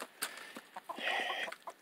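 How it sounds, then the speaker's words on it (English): Chickens cluck inside a backyard coop that holds golden laced and silver laced birds: a run of short, close, fairly quiet clucks and chattering calls with no one talking. "So inside we have our chickens here."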